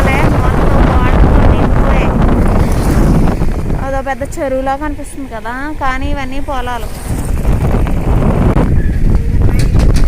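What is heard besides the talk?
strong wind blowing over flooded paddy fields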